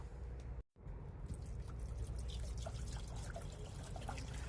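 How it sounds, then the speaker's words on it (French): Water pours steadily into a saucepan that already holds baking soda, making a continuous close trickling splash with a brief cut near the start. "Et on va venir rajouter 2 litres d'eau."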